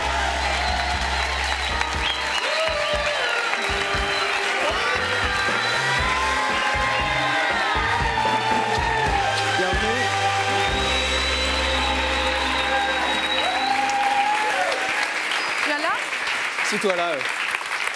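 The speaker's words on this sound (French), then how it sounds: "Merci d'applaudir debout Michel Larocque" A French TV talk-show studio audience gives a standing ovation to a guest: sustained clapping runs under loud, tonal theme music throughout, and a voice speaks briefly over it.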